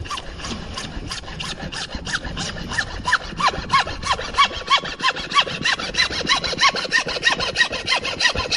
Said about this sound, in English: Now, you could use a hacksaw. And I'm going to use a hacksaw just to show you.